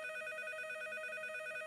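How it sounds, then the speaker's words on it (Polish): A cartoon telephone rings with a bright electronic trill, steady and continuous at moderate volume, with no talk over it. "Przepraszam cię, Kajtusiu, mam tyle telefonów od rana, ale obiecuję, że zaraz skończę."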